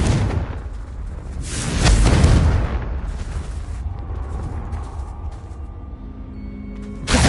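Spell explosions from Confringo casts in the Hogwarts Legacy video game, a loud burst swelling around the middle with rumbling booms, then a quieter ringing tail and another sharp blast at the end.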